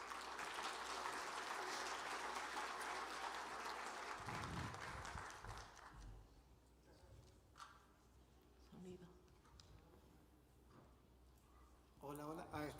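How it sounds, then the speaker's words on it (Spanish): Applause from an audience in an auditorium at a children's policy expert panel in Bolivia, loud and sustained for about four seconds, then fading into scattered claps and room murmur, with a brief burst returning at the end. "un fuerte aplauso"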